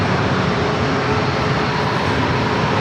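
Southwest Airlines jet at San Diego airport, a steady broadband engine roar filling the whole stretch at close, constant loudness with no voices.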